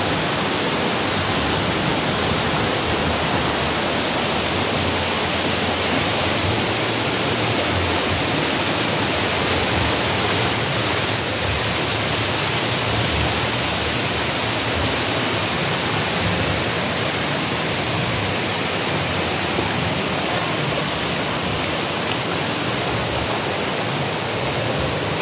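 Water at the Molobolo freshwater spring in Cebu roars in a steady, loud, unbroken rush that fills the whole stretch without any voices.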